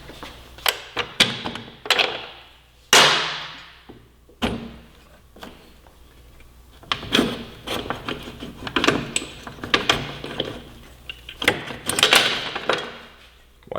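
Rear axle of a 2017 Yamaha R6 sportbike on an adjustable rear stand being pulled out by hand, giving a run of close metallic clunks, taps and scrapes spread through the clip at irregular intervals with quiet gaps between them.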